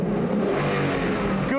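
A 2016 Ford Mustang with a 400-horsepower engine and stock exhaust revving, a steady, loud mid-range engine drone with a slight rise in pitch, close by and uninterrupted.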